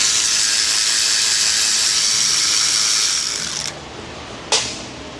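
A ratchet, likely air-powered, runs loud and steady as it spins out an oil pan bolt on a Chevy Express 2500 6.0, then stops, followed by a sharp metallic clack and a fading ring.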